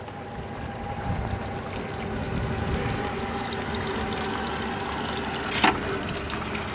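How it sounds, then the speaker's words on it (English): Fly-by-wire engines on a 2013 Sea Fox 256 Commander center console boat idle with a steady low rumble and a faint hum, water churning around them, a brief splash near the end. "When you shift these fly-by-wire engines, they just barely make a noise."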